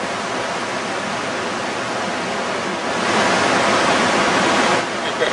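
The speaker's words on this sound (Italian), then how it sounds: "un tapis roulant d'acqua ribollente" Turbulent whitewater rushing and churning through a channel carved in rock around large boulders, a steady dense roar that swells louder partway through, with no voices.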